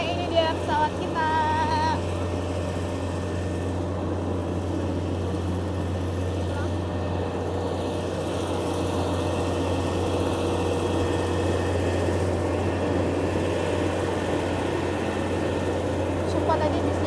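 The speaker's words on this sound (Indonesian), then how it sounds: "Oke, ini dia pesawat kita." A Transnusa airliner at the airport: a steady loud droning engine hum with a tonal whine that holds for the whole stretch, with brief talk and beeps near the start.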